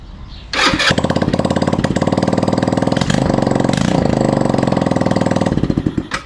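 A Honda Ruckus scooter's GY6 engine, running with no exhaust, kicks on loud and raw, a harsh rapid popping drone with a few throttle blips, then cuts off abruptly.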